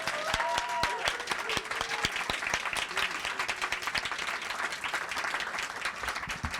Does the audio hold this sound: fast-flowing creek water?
no